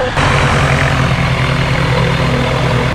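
A gyrocopter engine runs steadily at close range, a continuous droning hum with a low throbbing tone that holds even throughout, with no talk over it.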